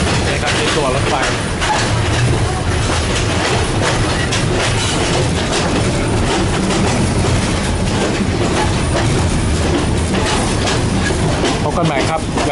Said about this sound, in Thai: รถไฟสายบ้านแหลมแม่กลองนะครับวิ่งผ่านป่าชายเลนป่าโกงกลางป่าจากนะครับ